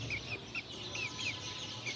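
Hot-blooded roosters cluck and squawk while fighting one another, several sharp, close calls repeating in quick bursts over a steady low background hum.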